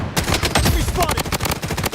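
Rapid bursts of automatic gunfire crackle steadily in a video game firefight, dense repeated shots throughout, with a game voice briefly audible.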